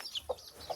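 A chicken gives a few short, close clucks in quick succession while being caught, faint and brief.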